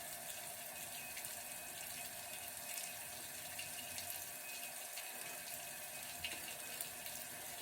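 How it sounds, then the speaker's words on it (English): Tap water runs and splashes into a sink during face washing, a steady close hiss broken by small irregular splashes, with no talking. "the splashing of water on the face is over dramatic"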